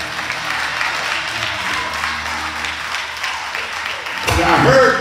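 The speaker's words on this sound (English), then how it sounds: "Y'all should have been clapping right there." Applause from a church congregation during a sermon, steady dense clapping throughout that swells louder near the end, with a voice rising over it.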